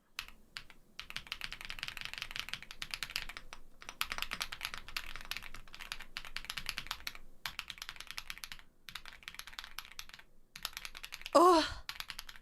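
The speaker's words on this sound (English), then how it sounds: "Let me see if I can type something in my chat." Rapid, crisp clicking of typing on a new computer keyboard, close and quiet, in steady bursts separated by short pauses, with a brief louder noise near the end and no speech.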